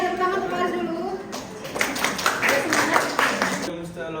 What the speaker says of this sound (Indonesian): tepuk tangan untuk Faris dulu.